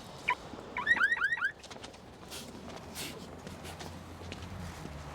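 A short run of rising electronic car alarm chirps rings out briefly, followed by quiet background noise.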